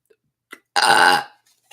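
A single loud, drawn-out burp rings out close up, with a few faint small sounds before and after.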